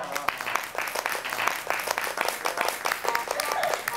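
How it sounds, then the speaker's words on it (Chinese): A group on a variety show breaks into applause, a continuous patter of many clapping hands, fairly close, mixed with voices and excited calls over the top. "鼓掌！"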